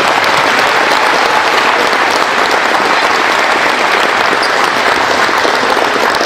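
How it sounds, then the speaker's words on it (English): Loud, sustained applause from an audience for dancers at an Indigenous round basketball event, a thick continuous wash of many hands clapping close and full throughout. "Can you please put your hands one more time together?"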